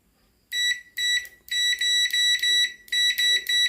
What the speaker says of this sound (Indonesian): Oke, coba kita dengarkan suara buzzernya.